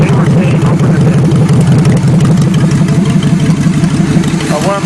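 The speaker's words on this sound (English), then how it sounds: "it's running perfect. The motor's still cold." A cold Chevy engine idles steadily after a carburetor tune-up with a slightly bent secondary on the floor barrel, a loud, even low rumble throughout with someone talking over it.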